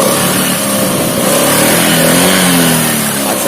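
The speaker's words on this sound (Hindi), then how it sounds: "अभी देखो स्टार्ट कर रहा हूँ, उसका साउंड अलग अभी चेंज हो जाएगा।" A Honda Activa scooter with a misfiring engine fault runs loud and close by, a steady buzzing drone that rises slightly in pitch toward the end, with no talking.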